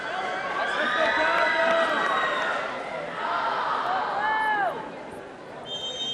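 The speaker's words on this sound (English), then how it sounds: "as you can hear, if you missed it in the first set, a pretty lively crowd here." A lively crowd cheers and shouts throughout at a junior girls' volleyball city final, steady and fairly close, with some rising calls near the end.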